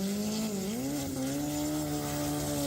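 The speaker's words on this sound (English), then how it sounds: "that sounds like a Mitsubishi engine, but it sounds like they put it longitudinal instead of transverse" Mitsubishi 4G63 engine mounted longitudinally in a dragster, a loud, steady high-revving drone with a brief dip in pitch before it holds a sustained buzzing tone.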